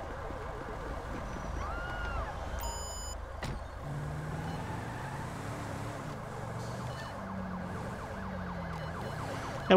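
Ambulance siren in the Grand Theft Auto V police mod, wailing steadily through a busy mix of game traffic and engine noise at moderate loudness for the whole stretch.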